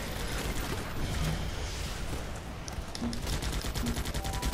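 Gunfire in the top-down shooter Guns Up comes as dense, rapid bursts of small-arms shots and popping impacts, steady and moderately loud throughout.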